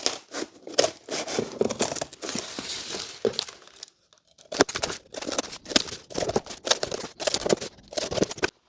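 Paper or thin card being cut with scissors to remove the corners of a square box template, a run of close crisp snips and crinkles, with a brief pause midway before the cutting resumes.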